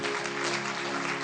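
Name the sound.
audience clapping loudly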